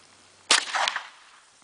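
A Thompson semi-auto Tommy gun fires one sharp, loud report, with the crack trailing into a brief echoing tail.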